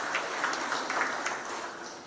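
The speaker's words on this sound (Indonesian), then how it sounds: "Bapak Rano Karno, tepuk tangan juga untuk Pak Wagub," A crowd at a Jakarta government gathering claps for the deputy governor; the applause is brief and fairly distant, a soft, even patter that tapers slightly.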